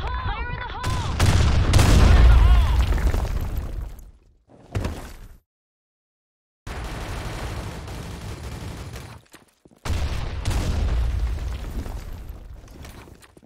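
Game explosions and gunfire in the shooter Blackshot, a loud blast-heavy burst at the start, a short crack, a brief silence, then sustained rattling fire and further heavy bursts, with game voice callouts mixed in.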